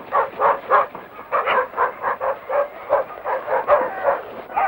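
A pack of chained sled dogs on the Yukon trail yaps and barks in rapid, overlapping bursts, close and loud, an eager continuous clamor with whimpering yips mixed in.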